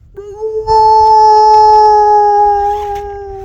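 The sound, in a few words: coyote howling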